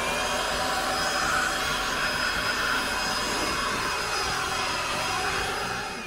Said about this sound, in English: The job site blow dryer works really well.